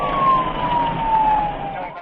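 A police car siren wails steadily on a single drawn-out tone, loud and fairly close, over road rumble during a pursuit of a white Camaro.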